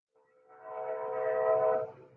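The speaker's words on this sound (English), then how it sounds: "The train, can you hear it?" A passing train sounds its horn in the distance, a sustained, fairly loud tone with a chord-like quality. It swells over about a second and a half, then cuts off.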